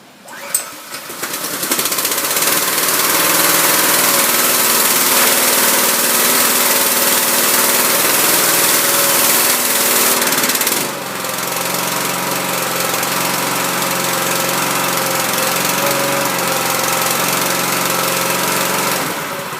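A Harbor Freight 2500 PSI gas pressure washer engine starts after a brief pull and runs loud and steady at close range, its drone dropping slightly in pitch partway through.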